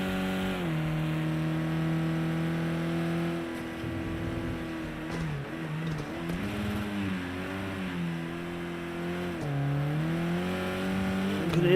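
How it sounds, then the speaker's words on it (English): Race car at Donington Park, rear wheels spinning on grass, an engine note rising and falling steadily with a brief scrabbling roughness mid-run as traction breaks, heard from onboard at a constant moderate level. "You can hear the traction a little bit on the grass."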